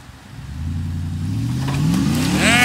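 A truck engine in four-wheel drive revs up, its pitch climbing steadily from a low rumble to a louder, higher roar, nearby and alone.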